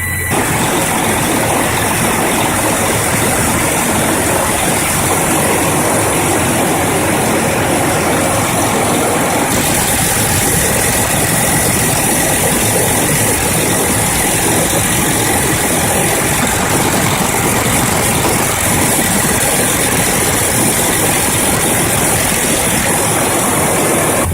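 A 2006 Freightliner diesel truck engine idles steadily and loudly up close, a continuous rough rumble with a mechanical rattle running throughout and no voices.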